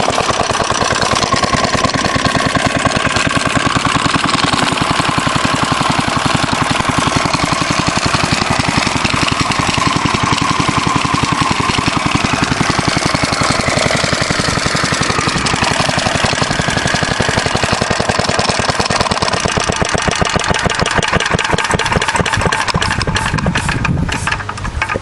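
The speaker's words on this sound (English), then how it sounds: "It's a nice little engine." A Fairbanks Morse Z/D stationary engine runs steadily, a loud close chugging with an even rapid beat held throughout, the rhythm slightly shifting near the end.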